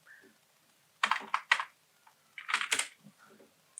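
Typing on a computer keyboard while entering a name into an Excel spreadsheet: two short clusters of crisp, close keystrokes separated by a brief pause, with faint soft sounds in between.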